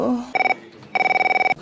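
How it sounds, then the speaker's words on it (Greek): A telephone on a Greek satirical TV sketch rings twice, each ring a bright, rapidly pulsing electronic trill, the second longer than the first, with a brief voice sound just before the first ring. "Χτύπησε το τηλέφωνο, 2 φορές μάλιστα."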